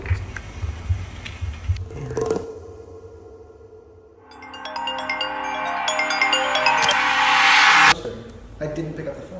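A phone ringtone plays loudly for several seconds as a bright, repeating electronic melody, set between stretches of talking before and after it.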